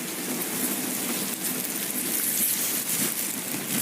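A rain sound effect of dense, steady hiss and patter, even and continuous with no clear drops standing out, moderately loud and with no voices.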